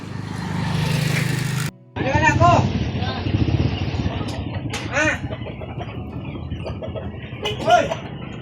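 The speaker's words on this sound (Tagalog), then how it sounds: "madaming manok oh" Several chickens cluck and call in short bursts close by, over a low rumbling background with occasional distant voices.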